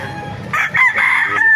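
A bulik rooster crows once, loud and close, at a poultry market in Baliuag, its strained call rising after a brief low rustle.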